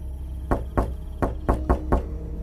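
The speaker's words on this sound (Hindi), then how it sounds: "तभी बाहर जोर से दरवाजा पीटा गया।" A heavy door is pounded from outside in a horror cartoon: six loud, hard knocks come in an uneven rhythm, close and booming, with no talking.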